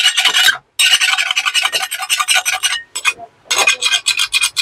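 A scourer scrubs hard across a ceramic dinner set plate in quick, rasping strokes, close and loud, broken by a few short pauses.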